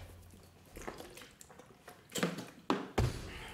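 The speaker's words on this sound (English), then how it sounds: "Spilt water all over my fucking floor" Water spills onto a floor indoors, giving soft wet taps, splats and drips that build to a few louder splashes near the end, close and without talk.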